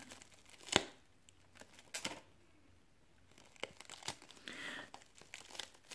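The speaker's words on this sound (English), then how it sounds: "So I will now use scissors to cut it." Plastic packaging on a boxed 1:18 Toyota Highlander 2015 toy car crinkles and snaps in sharp, scattered bursts of cutting and handling, close and quiet between the louder crackles.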